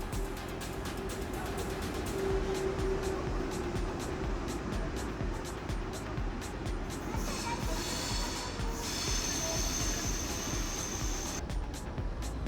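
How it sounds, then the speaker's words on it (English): A train arrives at Brussels Midi station: a steady broad rumble and hiss of rolling stock fill the platform, with brief squealing and hissing rising near the end. "there's a train coming in"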